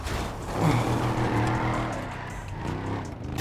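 A GTA 5 car's engine drones loudly with a steady, rising tone. A tire squeal and scraping road noise ride along with it, and no voices are heard.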